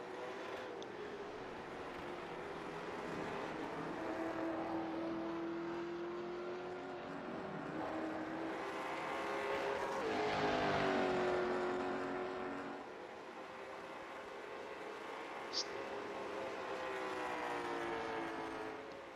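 Trans Am race cars on an out lap warming their tyres, engines droning and rising in pitch as they pass at a distance, a steady rumble swelling around the middle and fading again.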